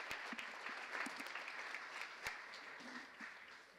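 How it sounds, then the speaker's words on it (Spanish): Faint, steady applause from a conference audience honouring distinguished speakers at the closing session on migration and the post-2015 agenda, with a few sharper claps standing out over continuous clapping. "Súmense a mí, por favor, para dar aplausos también a nuestros distinguidos ponentes."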